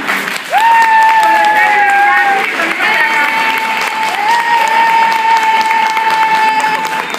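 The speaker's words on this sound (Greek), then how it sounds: "θα ήθελα ένα δυνατό το χειροκρότημα για τους μουσικούς μας." A crowd at a high school event in Zefyri loudly applauds the musicians, sustained clapping overlaid by long, high voiced cheers and whoops that carry through the whole stretch.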